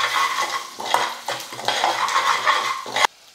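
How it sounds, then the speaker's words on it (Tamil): Spices sautéing in oil in a pan give a loud, close sizzle, broken by repeated stirring strokes and metal scrapes against the pan before ending abruptly. "இப்போ மசாலாலாம் சேர்த்து எண்ணெயில் கொஞ்சம் நேரம் வதக்கிக்கலாம்."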